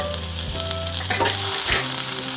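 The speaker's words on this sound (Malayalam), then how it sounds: "ഇനി ഇതിലേക്ക് അരിഞ്ഞു വെച്ചിരിക്കുന്ന സവാള ചേർത്ത് കൊടുക്കാം" Chopped onion and green chili sautéing in a hot pan for purple cabbage thoran, a steady close sizzle with scraping stirs partway through, under a sustained low tonal hum and no talking.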